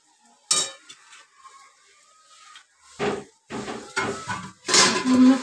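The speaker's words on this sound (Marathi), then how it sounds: "हे बघा आता मी साबुदाणा तांदूळ टाकते" Sago pearls are dropped into an oiled pan and stirred, giving bursts of scraping, rattling and light sizzling against metal. Quiet stretches separate the stirring bursts, and the sound grows louder and denser toward the end.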